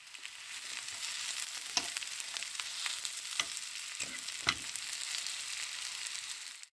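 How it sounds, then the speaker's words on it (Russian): Onions and mushrooms fry in a pan with a steady, close sizzle, broken by a few louder scraping stirs. "Потом добавляем грибы и еще раз прожариваем."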